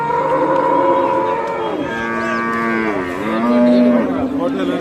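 Cattle moo loudly and close by at a cattle market, a long drawn-out low bellow that rises and falls, with no talk over it.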